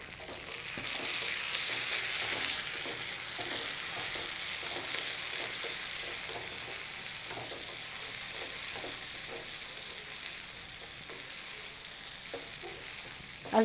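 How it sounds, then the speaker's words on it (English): Onions and tomatoes sautéing in a pan for nethili thokku, a continuous sizzle broken by rhythmic scraping strokes from steady stirring, close and alone. "Once the onions become transparent, add some tomatoes."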